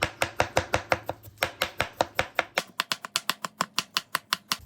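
A knife chopping cabbage into small pieces, a fast, even run of about thirty close, crisp strikes that briefly pause before continuing, with no voices.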